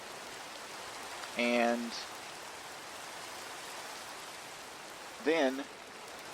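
Steady rain falling as a soft continuous hiss throughout, with a voice briefly speaking twice over it.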